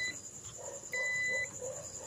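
A multimeter set to continuity buzzer mode gives a short, clear high-pitched beep of about half a second while a fusible resistor in a Sharp CRT TV is being tested.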